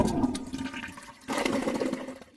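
A household toilet flushes in a rainwater-fed off-grid setup, a close rushing gush of water that surges, eases briefly, then swells again before tapering off, with no talk.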